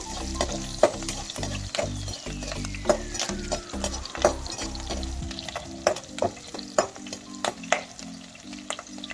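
Poha mixture with long-cut green chillies frying in hot oil, giving a steady close sizzle broken by sharp metallic clicks and scrapes of stirring throughout, with a low rhythmic mechanical hum beneath for the first half.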